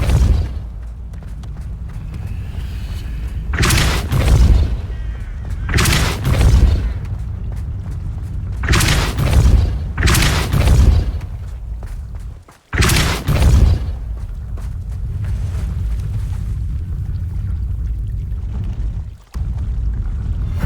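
Spell blasts in Hogwarts Legacy gameplay, a series of loud booming bursts with rumbling low end, several heavy impacts in quick succession and a sharp cutoff between groups.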